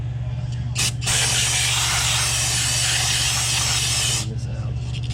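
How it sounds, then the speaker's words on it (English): A can of brake cleaner gives a single hissing spray of about three seconds onto a part of a sub-compact tractor during a 250-hour service, with a couple of short bursts before it and a steady background hum. "take some brake clean,"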